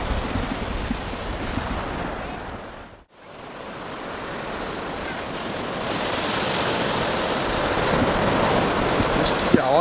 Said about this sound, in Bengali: সুন্দর সমুদ্রের যে ঢেউ, সুন্দর মিষ্টি আওয়াজ